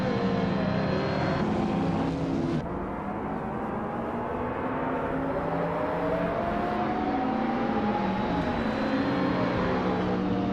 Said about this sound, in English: Mist 149 is on pole, driving a 1992 Jaguar X J220, a classic 1100 supercar.